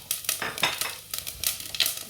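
Mustard, cumin, fennel and fenugreek seeds hit hot oil in a pan, giving a quick crackling sizzle with rapid light pops and scrapes, fairly close and moderately loud.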